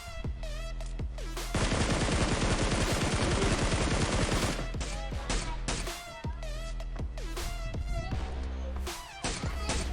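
Bursts of gunfire in PUBG on the Miramar map, with rapid automatic volleys and single shots that are loud and dense. Whining game effects and a player's voice run over them.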